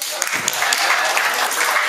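Brief applause from a seminar audience, scattered clapping mixed with talking voices over a short burst.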